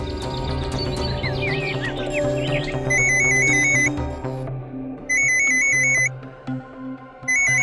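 An unanswered phone rings in repeated bursts of bright electronic trilling, with pauses between rings, over steady dramatic background music; no voices.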